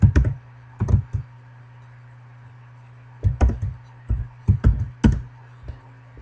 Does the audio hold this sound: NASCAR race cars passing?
no